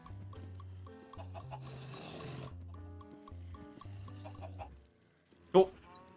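Minecraft chicken clucks among a farm of pigs and villagers, heard under steady background game music with one sharper cluck near the end.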